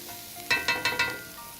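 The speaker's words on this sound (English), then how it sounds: "So we're going to cook these onions until they're soft and clear." Onions for gravy sizzle in a pan, with four quick stirring scrapes in a row over a soft steady fry, close and clear with no talking.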